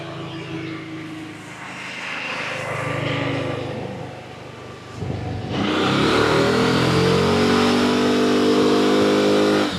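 A Kymco Xciting VS400 four-stroke scooter engine runs on a dynamometer, droning loudly up close, then surging into a harder rev whose pitch climbs and holds at a sustained high roar.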